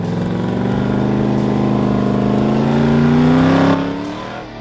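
A loud Jeep engine drones close by through a 2.5-inch exhaust into a 3-inch MagnaFlow muffler, its deep exhaust note rising in pitch as it revs up, then easing off and fading at the end.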